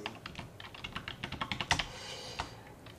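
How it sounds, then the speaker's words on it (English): Fingers tap a QWERTY computer keyboard in a quick, uneven run of crisp clicks, close and clear with no voices over them. "So it's a QWERTY keyboard."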